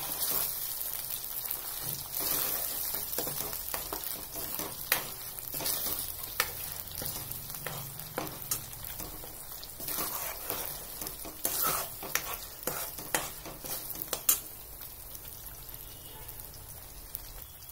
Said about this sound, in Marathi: असा छान आपल्याला तेल सुटेपर्यंत हा मसाला परतून घ्यायचा आहे